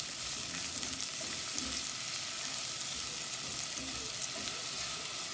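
Red onion sautés in about 1.5 tablespoons of olive oil in a pan, a soft, steady sizzle that hisses quietly throughout, broken now and then by faint low stirring sounds.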